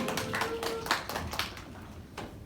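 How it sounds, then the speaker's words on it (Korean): A church youth group at a Sunday service bursting into brief applause, a short flurry of clapping from a small crowd that quickly thins out to a few scattered claps. "우리 들어갈 때 다시 한번 박수로 들어가시면 되겠습니다"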